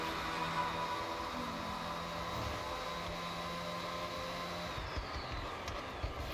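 Aston Martin Valkyrie AMR Pro engine in the Forza Horizon 6 racing game, a loud, steady high-pitched drone holding near-constant pitch throughout, with a slight shift toward the end and no talking.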